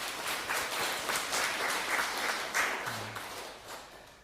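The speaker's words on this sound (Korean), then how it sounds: "우리 박수로 환영하겠습니다" A church congregation applauds in welcome during a Sunday worship service, steady dense clapping filling the room throughout before easing slightly at the end.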